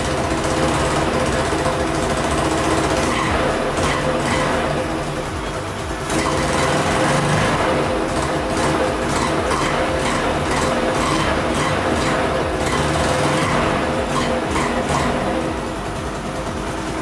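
A Yamaha Mio scooter engine on a red streetbike build, a loud continuous buzzing drone that rises and falls with the throttle, close up and heard without talk.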